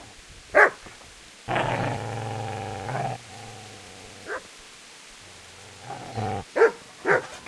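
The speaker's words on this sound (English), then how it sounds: "Get away, you mutt!" A dog in Kingdom Come: Deliverance barks and growls at a man: sharp single barks, then a long rumbling growl, followed by a quick run of close, loud barks near the end.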